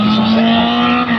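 A Lancia race car on a street circuit at the Circuit des Remparts, its engine a loud, steady drone holding one strong pitch throughout, close by and with no voices.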